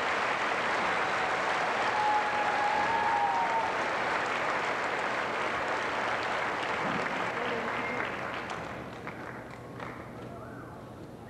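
Sustained applause from a crowd at a high school graduation, dense and steady clapping that gradually thins out toward the end.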